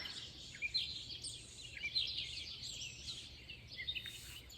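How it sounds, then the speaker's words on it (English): Several birds sing and chirp in the morning air, bright overlapping calls at a moderate distance over a quiet background. "encircling yourself with all the beauty of this morning and the sound of the birds"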